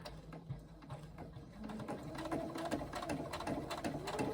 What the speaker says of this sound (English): you're on your domestic, you'll just sew a 1/8 inch seam down